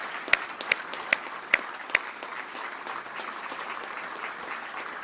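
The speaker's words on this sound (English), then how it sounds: "How about a big round of applause for the great Lieutenant General Maria Barrett." Applause at a military change of command ceremony starts with a few sharp, distinct claps, then settles into a steady, moderate patter from the audience.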